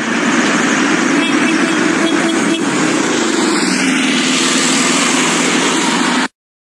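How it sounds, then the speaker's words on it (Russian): Steady engine drone from a cartoon van in a children's animation, loud and continuous for about six seconds with a brief whooshing sweep midway, then cutting off abruptly. "Фургон."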